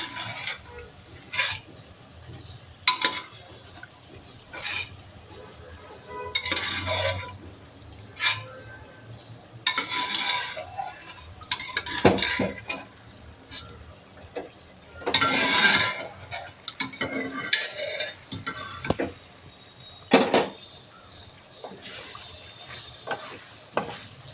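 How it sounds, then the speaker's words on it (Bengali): Mutton is sautéed in spice masala with repeated scraping and clinking stirs of a spoon against the pot over a low sizzle, in uneven bursts and close, with no talk. "মাংসগুলো দিয়ে আমি কষাবো আর ঝোলটা অল্প অল্প দিয়ে কষাতে থাকবো"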